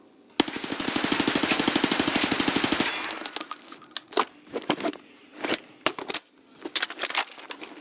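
A budget gun in the Escape From Tarkov video game fires a rapid full-auto burst of about two and a half seconds, then spent casings and clattering metallic clinks follow in scattered bursts.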